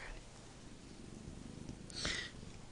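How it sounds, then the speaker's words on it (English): A kitten purrs very low and faintly as a soft rhythmic rumble close by, with a brief breathy snort or sneeze-like burst near the end. "Yeah, I can hear you purring, just it's very low."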